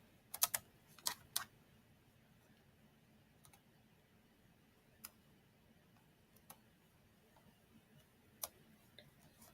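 Calculator keys are pressed in a quiet room: a quick cluster of sharp clicks early on, then single taps spaced out over several seconds, faint and close.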